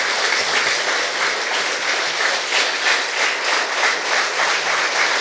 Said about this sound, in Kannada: ಎಲ್ಲ ವಿದ್ಯಾರ್ಥಿಗಳು ಎಷ್ಟು ಸಾಧ್ಯವೋ ಅಷ್ಟು ಜೋರಾದ ಚಪ್ಪಾಳೆ ಬಾರಿಸೋದಕ್ಕೆ ಆರಂಭ ಮಾಡಿ